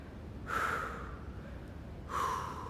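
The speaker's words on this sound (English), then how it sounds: "And you hear that, those breathes," A female climber character's breathing in the climbing game Cairn, two heavy, audible breaths, each a sharp inhale-exhale spaced about a second and a half apart over low background hum.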